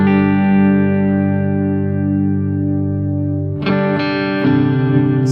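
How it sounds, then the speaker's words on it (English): Electric guitar through amp modelling of a Twin and a JC120, a sustained chord ringing out with chorus-like shimmer and slow decay, then fresh strummed chords near the end; clear and close, with no talk. "What I'm going to do now is turn some amp modelling on, and you can hear what it does with that."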